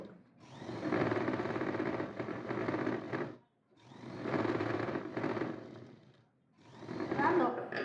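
A sewing machine stitches a blouse in three long runs, its steady mechanical whir stopping briefly between bursts, close and fairly loud.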